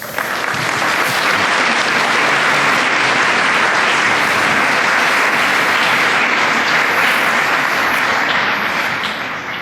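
An audience claps steadily to welcome lecturer Charles Ray, a dense, loud, sustained wash of applause from many hands filling the whole stretch without talk.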